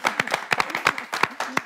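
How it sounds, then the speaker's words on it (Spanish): Small audience at a family church service clapping for a Dominican Republic win in the Caribbean Series, a dozen or so sharp, uneven claps in a loose burst with voices mixed in. "¡Aplausos, Dominicanos!"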